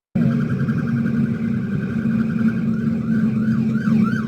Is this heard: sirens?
yes